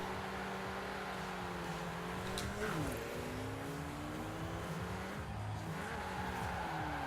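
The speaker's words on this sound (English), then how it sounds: "car seems to handle about how I'd expect a hot Ford to handle" A hot Ford car driving in the video game Forza Horizon 4, its engine droning steadily with shifting pitch as it accelerates and turns, punctuated by brief tire squeals, loud and continuous with no talk.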